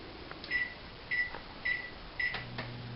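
An oven control panel gives four short, evenly spaced electronic beeps while preheat is set, followed by a faint low hum from the appliance, close and clear with no speech.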